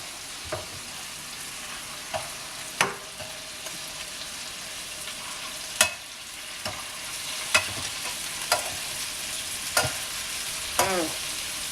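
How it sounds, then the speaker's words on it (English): Sea scallops sear in a hot frying pan with a steady sizzle, broken by occasional clinks and scrapes as they are turned over. "Turn them over and let them cook for about another minute."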